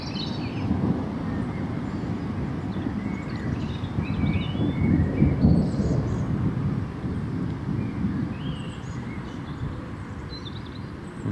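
A low, distant rumble of thunder from a thunderstorm over Greater Manchester, UK, swells and fades under steady wind noise, with faint bird calls above.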